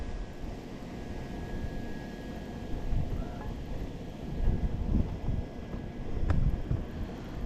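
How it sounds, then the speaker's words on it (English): Strong wind buffets the microphone at a private rock quarry in winter, a continuous low rumbling roar with gusts that swell and fade and no talk. "It's been very windy here."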